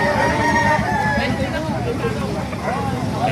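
A golden rooster crows repeatedly at a busy Philippine poultry market, its calls rising over steady crowd babble and nearby talking.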